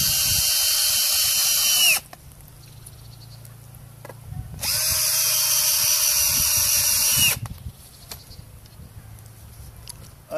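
A power drill drives screws into a Sølund screw foundation in two loud, sustained whirring bursts of about two and a half seconds each, separated by quieter pauses with light handling noise.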